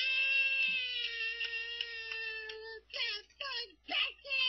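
A cat in a children's cartoon lets out one long, drawn-out, wavering meow, then a string of shorter cries. All of it is close and clear.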